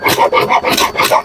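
Rhythmic rasping strokes of a saw cutting through old PVC pipe, about six back-and-forth passes in quick succession, close and fairly loud with no talking.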